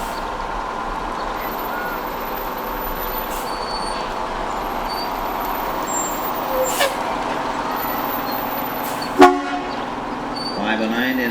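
A DNRC fire truck in a Winifred, Montana centennial parade gives a short horn toot late in the clip, heard over steady street noise and crowd murmur.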